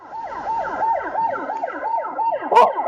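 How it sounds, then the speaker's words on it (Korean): A police siren wails in a fast, repeating up-and-down pattern, loud and close, with a brief sharp click near the end. "경찰차 소리가 들린다"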